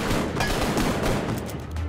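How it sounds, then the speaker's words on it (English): Heavy gun firing in the VR shooter Arktica 1, a dense, continuous burst of loud rapid shots that runs unbroken throughout with no speech. "Oh, heavy gun."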